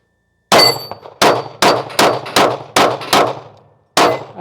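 Seven gunshots from a Glock 45 pistol at 12 yards, each followed by a sharp metallic clang off steel plates, fired in a quick irregular string with a short pause before the last, loud and close.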